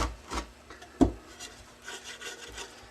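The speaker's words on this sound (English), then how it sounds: "grease up the inside of the frame." Grease being rubbed by hand around the inside of a sinker mold frame, a quiet scraping rub with one sharper knock partway through, then soft intermittent swishing strokes.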